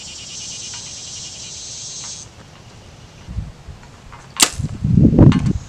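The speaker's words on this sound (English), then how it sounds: "We're gonna fling a few arrows at 70 yards, just get a little warm up" Arrows loosed from a bow on an outdoor archery range at 70 yards: a couple of sharp thwacks and a soft swish toward the end, under wind noise and a steady insect-like hiss early on.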